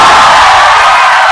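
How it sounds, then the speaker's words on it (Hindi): Loud, dense applause from a classroom audience at a BPSC essay coaching class, welcoming a guest; steady close clapping fills the short moment without a break and with no speech. "एक बार जोर से ताली बजा के इनका स्वागत करो।"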